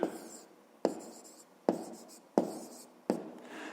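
Handwriting strokes during a fifth-grade maths lesson, five distinct scratchy pen-on-paper bursts at a steady rhythm, each starting sharply and trailing off, close and alone with no talk.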